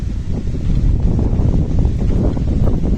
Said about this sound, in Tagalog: Ay, nako, lakas ng hangin.